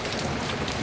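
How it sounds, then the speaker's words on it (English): Steady rain falls in Tucson after a long dry spell, a dense, even hiss of drops on surfaces filling the whole moment at a constant level, with no voices. "Didn't see this kind of rain coming."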